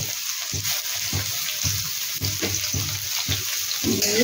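Sliced onions with salt frying in hot oil in a pan, a steady close sizzle with faint repeated stirring scrapes beneath it and no talking.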